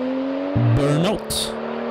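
A 400 hp BMW 535i F10 sedan with a REMUS exhaust does a burnout, a loud close engine drone rising and wavering with a brief revving surge and tire noise, while a voice talks over it.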